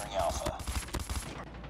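M16 burst fire in Call of Duty Mobile, a quick string of punchy shots in short clustered bursts, fairly loud, mixed with in-game ambience over less than two seconds.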